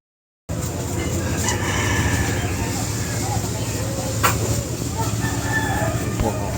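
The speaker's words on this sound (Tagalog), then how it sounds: "Manok." A rooster crows amid a busy, noisy background of steady rumbling and chatter, the call partly buried rather than standing out clearly.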